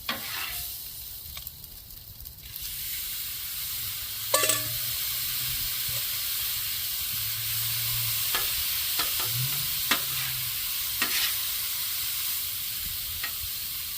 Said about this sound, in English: shrimp with lime juice on them. And they're just going to saute real quick